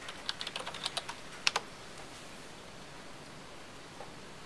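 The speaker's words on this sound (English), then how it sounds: "so type in my credentials there" Login credentials are tapped out on a computer keyboard for a Linux-based Wyse Viance desktop appliance: a quick, light run of close keystrokes for about a second, one louder key press, then near silence with faint background hiss.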